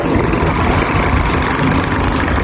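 Motorcycle engines idle at a Shell gas station in Buso-Buso, a steady, loud, continuous rumble with no pauses or speech.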